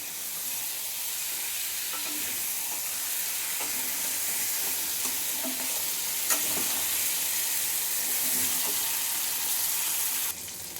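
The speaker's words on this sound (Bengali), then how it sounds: "আলু পটলটা দিয়ে এই মশলাটা ভালো করে কষিয়ে নেব।" Potato and pointed gourd pieces sauté with spices in a pan, a steady close hissing sizzle with occasional soft stirring clicks and no talk, cutting off near the end.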